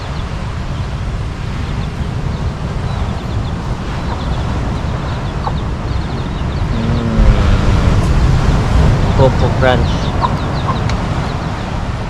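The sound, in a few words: chicken clucking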